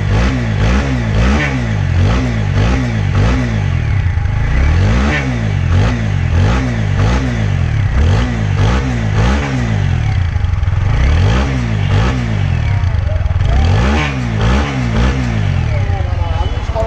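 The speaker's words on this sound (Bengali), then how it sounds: "দেখাবো হচ্ছে বাইকের সাউন্ড এবং পারফরমেন্স" A TVS Apache RTR 160 4V motorcycle engine revs up and down repeatedly, loud and close, in a steady cycle of rising and falling throttle blips that run throughout, with talk over it.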